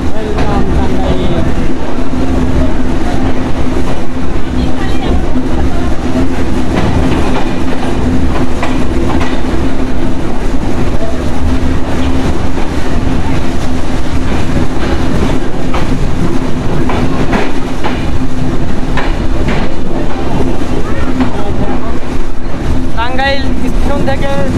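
Chitra Express passenger train running through Bangladesh near Tangail station, with loud, continuous rumble and rail clatter throughout and talk faintly underneath.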